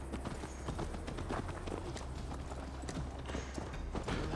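Horse hooves clip-clop steadily at a ride in Assassin's Creed Valhalla, a dense, continuous rhythm of hoofbeats over a busy game background, with no voices.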